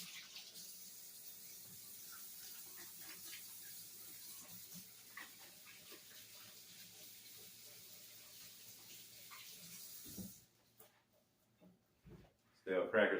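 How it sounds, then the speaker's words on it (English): Hands are washed under a running tap, a soft, steady stream of water for about ten seconds that then shuts off, followed by a few knocks and a voice speaking at the end. "you got to wash your hands right quick"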